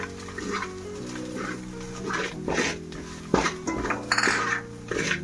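Spice powder being stirred into an Andhra-style fish curry in a pot, with repeated scraping and clinking of a utensil against the pot in irregular bursts, close and moderately loud over a steady background hum.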